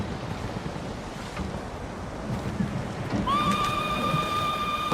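A horse whinnying in the samurai game Ghost of Tsushima, a clear tonal neigh rising in the last seconds over a wash of wind and surf.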